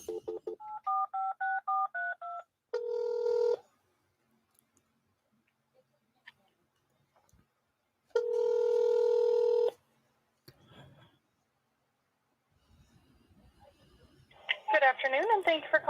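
A phone call begins with a quick run of touch-tone dialing beeps, followed by two long, loud electronic ring tones separated by silence, then a voice answers faintly over the line.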